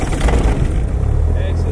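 A light aircraft engine idles at about 1000 RPM just after start-up during a night flight lesson: a steady, loud low rumble under close talking.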